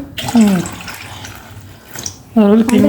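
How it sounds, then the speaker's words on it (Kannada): Water poured into a container of mushrooms being cleaned, splashing in two bursts between stretches of speech, close and fairly loud, with a voice talking over it. "ಅದ್ರೊಳಗೆ ಹಾಕ್ಬೇಕ್ರಿ. ಸ್ವಲ್ಪ ನೀರು ತುಂಬೋ ಅಷ್ಟು ಹಾಕ್ಬೇಕು."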